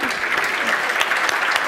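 Audience applause at an insurance awards ceremony, dense steady clapping from a crowd sustained evenly throughout, fairly close and full.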